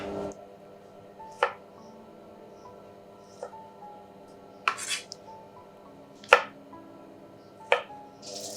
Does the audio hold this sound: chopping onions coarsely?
yes